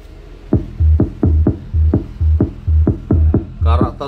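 An Orange 155 15-inch subwoofer with a 5-inch coil thumps out a bass test as a steady run of about eight evenly spaced, loud, deep pulses, with a brief higher tonal burst at the end.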